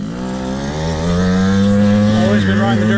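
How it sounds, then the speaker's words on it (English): A kid's dirt bike engine drones and rises in pitch as the rider accelerates, loud and close, with a steady harmonic whine building over a few seconds. "Always been riding the dirt bike."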